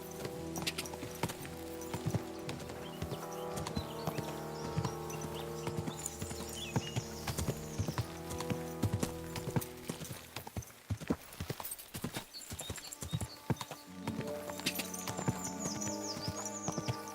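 Horse hooves clip-clop steadily along a path in Kingdom Come: Deliverance II, a continuous rhythmic patter over sustained background music, with brief bird chirps and a short gap in the middle before the steps resume.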